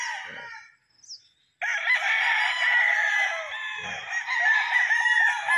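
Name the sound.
gamecock roosters crowing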